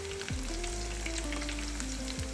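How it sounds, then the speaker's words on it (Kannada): Mushrooms deep frying in hot oil give off a steady, close sizzle and bubbling crackle that runs through the whole short stretch, with faint tonal hum beneath and no voices. "ನಾವು ಒಂದೊಂದೇ ಮಶ್ರೂಮ್ನ ಎಣ್ಣೆಗೆ ಸೇರಿಸಿ ಚೆನ್ನಾಗಿ ಡೀಪ್ ಫ್ರೈ ಮಾಡ್ಕೊಳ್ಳೋಣ."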